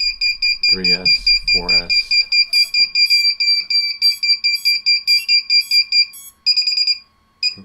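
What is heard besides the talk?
flight controller buzzer sounding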